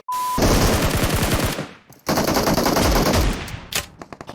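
Gunfire in the PUBG Mobile video game, two loud rapid bursts of automatic shots separated by a brief gap and then a few scattered single shots close up, with no talking.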